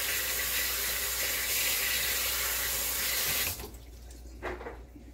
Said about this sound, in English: Let me rinse real quick.